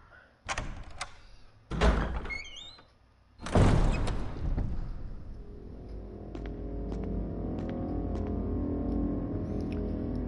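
Double doors opening in the Resident Evil 1 HD remake: a few heavy wooden knocks and a loud creaking swing, then a low steady ambient drone that carries on alone without speech.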